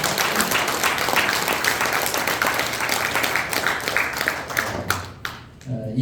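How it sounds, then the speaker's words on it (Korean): An audience at a welfare foundation's New Year workshop applauds the foundation chairman with sustained, dense clapping that carries on steadily for several seconds before tapering off. "박수 부탁드리겠습니다"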